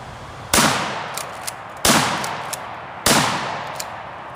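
Three sharp, loud blasts from a Remington 870 shotgun firing high-velocity 3-inch Magnum steel shot, evenly spaced about a second and a quarter apart, each with a decaying echo and faint clicks between.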